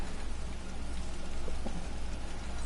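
Steady rainfall in the game Skyrim forms a soft, even wash of drops, fairly quiet and unbroken, with no voices.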